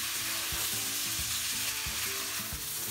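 Raw rice for Bangladeshi plain pulao sizzling in hot fat, with a steady frying hiss and regular scraping knocks of a spoon stirring the pan about three times a second, close and alone.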